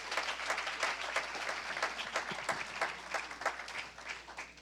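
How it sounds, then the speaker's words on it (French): A church congregation at an Apostle's sermon breaks into sustained applause for the Lord, a steady wash of many hands clapping, fairly loud and even throughout. "And someone clap for the Lord."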